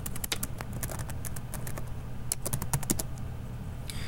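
Computer keyboard typing in quick bursts of light, crisp key clicks, close and clear, with brief pauses between runs of keystrokes.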